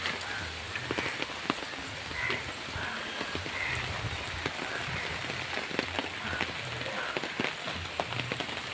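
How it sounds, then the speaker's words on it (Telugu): Steady rain patters onto surfaces with scattered sharp drip clicks, a continuous wash with no voices. "ఈరోజు ఫుల్ రెయిన్ అనమాట"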